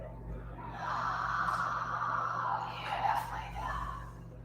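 A slow, breathy exhale during a yoga breathing exercise, close and soft, drawn out over several seconds with a second airy release toward the end.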